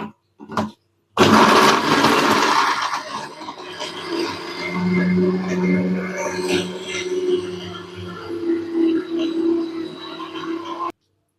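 A mixer grinder grinds paste for hotel-style idli kurma. After a couple of short pulses, the motor whirs loud and close for about ten seconds with a rough, churning tone, then stops abruptly.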